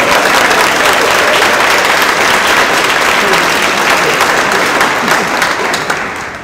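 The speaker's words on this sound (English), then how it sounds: "Give them a round of applause." Audience at a drug war debate event clapping in sustained, dense applause that fades slightly toward the end.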